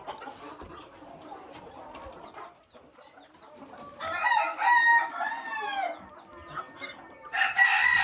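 Blue-collared pheasants in an aviary call in bursts of loud, harsh, crowing-like cries over quieter background rustling and low chatter, the calls strongest in the second half.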